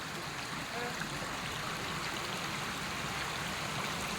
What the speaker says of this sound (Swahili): Hii maji inatoka kwa mawe.